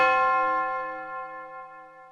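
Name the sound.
church bells tolling, radio segment effect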